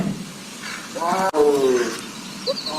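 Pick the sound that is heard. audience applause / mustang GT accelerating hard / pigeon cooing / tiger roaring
tiger roaring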